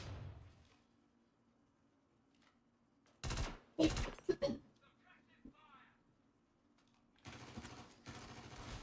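Charged-shot gunfire in the Star Citizen game, several loud, close bursts of rapid shots in two clusters with a quiet gap between them, while a person talks.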